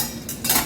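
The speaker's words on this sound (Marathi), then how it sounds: "झाकण काढूया।" A metal lid lifts off a cooking pot of radish greens with a short clatter and scrape, followed by a brief louder clink, close and quick.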